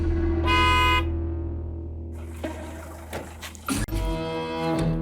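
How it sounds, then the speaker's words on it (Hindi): A vehicle horn honks in sustained, repeated blasts on a busy street, loud and close, with traffic noise between the toots. "ये क्या हॉर्न बजा रहा बार बार?"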